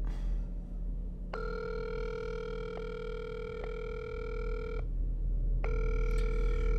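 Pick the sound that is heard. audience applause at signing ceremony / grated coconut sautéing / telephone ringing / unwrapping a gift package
telephone ringing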